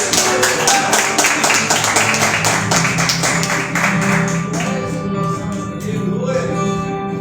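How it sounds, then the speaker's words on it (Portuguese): Church congregation applauding, a dense burst of rhythmic hand claps that fades out over several seconds while a low voice carries on underneath. "Pode se sentar e as palmas para o Senhor."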